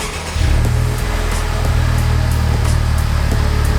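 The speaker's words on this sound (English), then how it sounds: "Go ahead and do the first startup of this and see if it sounds any different possibly." A 2018 Honda Civic Type R engine, fitted with a front-mount intercooler, cranks and catches, then settles into a steady, loud idle with a low rumbling drone.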